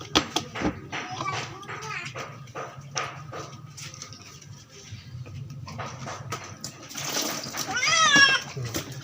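A pet cat meows and wails while being bathed, its cries rising into a loud drawn-out yowl near the end amid splashing water and handling noises.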